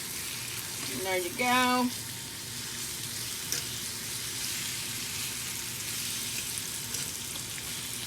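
A steak sizzles in a skillet with a steady, fairly quiet frying hiss that runs throughout, while a brief voice speaks near the start.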